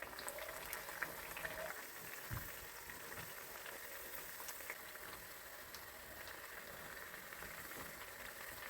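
Dill leaf ambode fritters frying in oil, a continuous faint bubbling sizzle with a steady hiss and scattered small pops, no voices.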